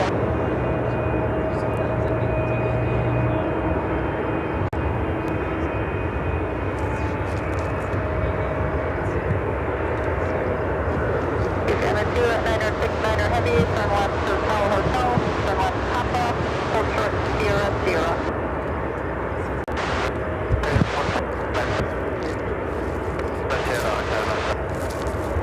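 A Boeing 747-400 converted freighter at Chicago O'Hare gives a steady, loud jet engine roar throughout, with rougher bursts later on and speech faintly under it.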